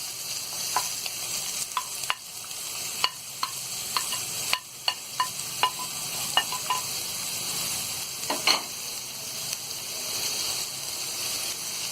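Chopped onions sizzle and fry in a pan with spices for mutton liver masala, a steady close hiss broken by repeated clicks and scrapes of stirring against the pan, with no talking.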